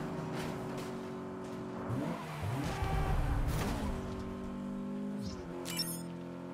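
A car engine revs and roars with tire noise as the car is driven into a lake in Saints Row, then a heavy splash-like rumble mid-clip, amid steady game music.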